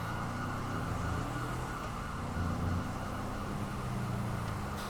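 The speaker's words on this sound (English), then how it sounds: "We're going to get the hell away from his noisy siren anyway." Police car siren in the video game GTA 5, a steady wailing tone held under continuous traffic and engine noise, loud and close throughout with no talk.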